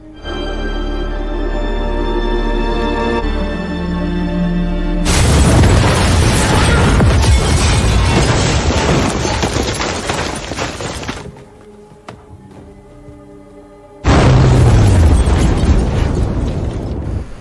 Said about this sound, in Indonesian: Dengan tekad bulat, Lisa memilih untuk tetap tinggal dan meledakkan pabrik bersama dirinya.